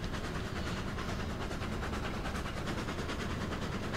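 A train moving uphill in the railroad game Railroads Online on the Aurora Falls map, hauling logs: a steady, loud mechanical rumble with a dense clatter that runs unbroken for the whole stretch.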